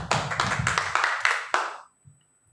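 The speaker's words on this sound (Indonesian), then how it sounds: "Mari kita sorak-sorak untuk Tuhan Yesus" A church congregation at a Sunday service claps in a quick burst of several loud, close claps, then falls suddenly silent.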